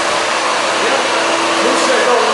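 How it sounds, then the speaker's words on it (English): A vacuum cleaner with a fault runs steadily and loudly, giving a continuous broadband roar with a faint whine and no breaks. "When the vacuum is doing this, that's bad."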